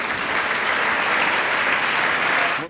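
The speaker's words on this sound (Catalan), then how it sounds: "fort aplaudiment per la Pilar" Loud, sustained applause from an audience at a cooking contest prize ceremony, dense clapping filling the whole moment before cutting off abruptly.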